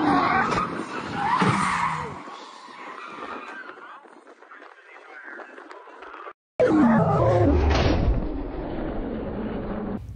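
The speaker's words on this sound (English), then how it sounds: "I put the car into the wall much harder than I ever have before." A Toyota Altezza drift car skids with screeching tyres and engine noise, then the sound cuts briefly before a loud, harsh impact as it slams into a wall, followed by sustained grinding noise.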